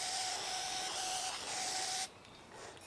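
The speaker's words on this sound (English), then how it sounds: "we're going to go ahead and spray" Close, steady hiss of aerosol spray paint misted onto glass for a mercury-glass finish, running continuously for about two seconds before cutting off into quieter room tone.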